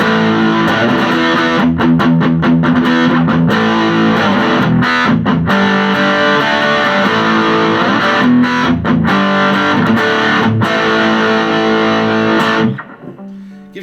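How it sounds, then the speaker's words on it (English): Electric guitar through a JHS Andy Timmons pedal with the boost off and distortion turned up for crunch, into a Roland JC-40 amp, playing loud continuous distorted chords with rhythmic choppy breaks before cutting off near the end. "if you shut off the boost, you can kind of kick up the distortion and give yourself a lot more crunch."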